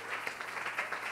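A church congregation applauding and clapping together during worship, a dense, steady patter of many hands at moderate volume in a reverberant hall.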